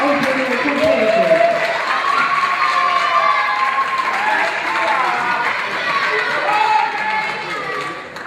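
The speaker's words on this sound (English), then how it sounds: "This is a great round of applause for Juvenile Open Championship." Sustained loud applause and cheering from a crowd at a Juvenile Open Standard ballroom dance championship, steady clapping filling the whole stretch with voices mixed in.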